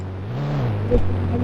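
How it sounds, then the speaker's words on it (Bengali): A Defender car driving in the mobile game Indian Bike 3D gives a steady low engine drone that swells slightly in pitch partway through, then settles, with no talking over it. "এই গাড়িটা ডিফেন্ডার ভাই"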